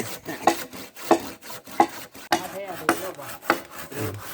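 Wood being cut with a cutting tool during traditional Phu Thai rice-wine making in Laos: a series of close, evenly spaced strokes about every half second, each a sharp scraping rasp.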